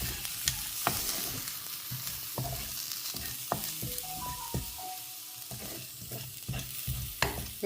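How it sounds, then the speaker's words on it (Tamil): Grated coconut roasting in a pan for a non-veg curry, stirred steadily with a spatula that scrapes and taps the metal under a continuous soft sizzle. "இந்த தேங்காவுடைய அந்த எண்ணெய் பதம் போகிற வரைக்கும் இதை வறுத்து எடுத்துக்கணும்"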